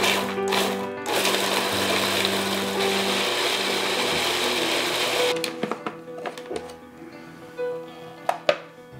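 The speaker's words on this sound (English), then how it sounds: "Now I'm going to put the lid on there and pulse it until it's the same consistency" A food processor pulses sambal badjak ingredients in loud whirring bursts, a long run giving way to shorter stop-start pulses with rattling and clicks between them, no talk.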